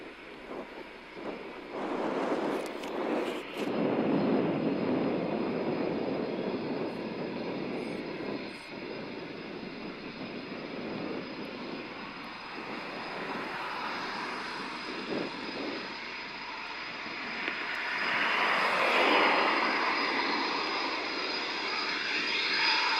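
RAF Typhoon fighter jets flying at RAF Coningsby, a loud sustained jet roar that swells and fades across the passes, with a further surge of engine noise near the end and no talking.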